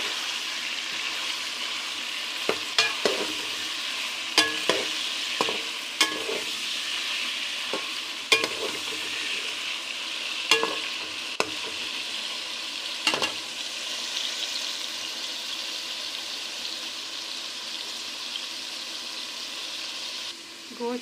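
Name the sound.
stirring and frying chicken with salt in a karahi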